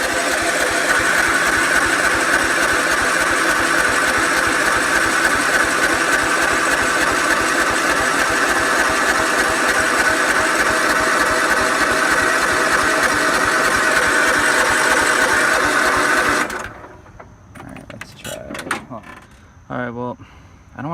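Old tractor engine running after sitting idle for a long time: a steady, loud mid-pitched idle that cuts off abruptly near the end, followed by a few faint knocks and clicks.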